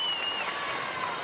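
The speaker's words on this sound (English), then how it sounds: "the crowd behind us comes to life" Basketball crowd at a high school regional semi-final between Madison Central and Frederick Douglass cheering, a dense, steady roar of voices and clapping heard alone at fairly close range.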